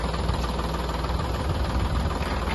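A tractor working a drill to bore 8-foot pits into farm soil runs at a constant heavy rumble, loud and close, with a dense, unbroken mechanical roar.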